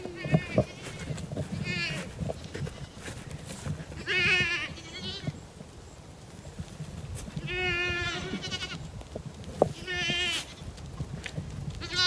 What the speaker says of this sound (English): Let's go give the cow and the goats a treat.